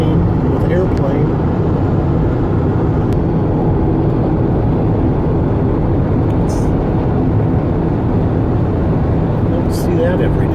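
A crop-spraying airplane flies over a gravel pit area, heard as a loud, steady low rumbling drone that holds at constant level throughout, with faint higher clicks now and then.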